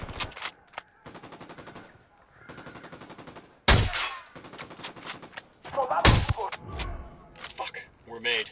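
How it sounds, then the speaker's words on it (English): Gunfire from the Ghost Recon Wildlands video game rings out in sharp, loud bursts of rapid automatic shots, separated by quieter stretches with tonal background hum. "I'm shooting these fuckers."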